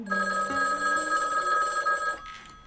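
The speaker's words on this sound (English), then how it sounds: "A fake telephone rang, yes." A fake telephone bell rings in a steady, bright, sustained trill at close range, cutting off near the end with no talk.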